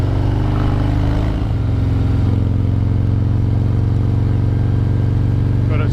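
A Harley-Davidson FXDR motorcycle engine thrums loudly and steadily while riding through tight bends, with a deep low rumble that shifts as the throttle changes partway through.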